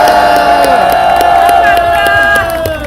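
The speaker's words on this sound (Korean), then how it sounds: "경찰분들을 위해서 격려의 박수를 부탁드립니다" A crowd at an outdoor election rally cheers and applauds for the police on duty, loud and sustained, with shouts and whoops over scattered claps and sustained tonal sound running underneath.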